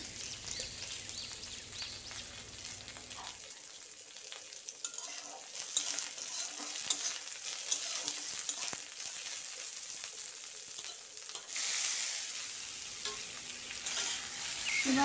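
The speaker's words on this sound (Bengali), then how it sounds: "এবার সবগুলো একসঙ্গে একটু হালকা করে ভেজে নেব" Chopped garlic, chilli and onion fry together in a pan for a water spinach dish, giving a steady, soft hiss of sizzling oil with scattered stirring scrapes, swelling louder toward the end.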